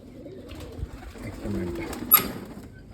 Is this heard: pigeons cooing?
yes